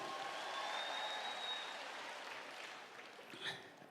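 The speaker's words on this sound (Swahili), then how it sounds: "Wapi makofi ya mama Kiambu?" Applause from a crowd of women at a women's convention in Nairobi, steady broadband clapping that stays fairly faint and distant, swelling briefly near the end.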